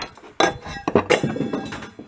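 Several sharp metallic taps and clinks strike in an uneven rhythm, close and fairly loud, as a tool hammers a 1 lb propane canister being made into a hobo stove.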